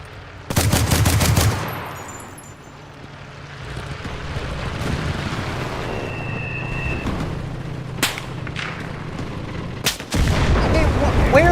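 Gunfire and sniper shots in the video game Enlisted: loud bursts of rapid automatic fire open and close the stretch, with scattered single sharp cracks in between over a rumbling battlefield background.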